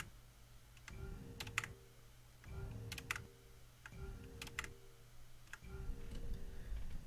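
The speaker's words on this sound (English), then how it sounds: "I don't know if you can hear my keyboard" Computer keyboard keys are pressed in a Portal 2 speedrun: four short, quiet bursts of rapid clicking, evenly spaced over a low background hum, with no talking.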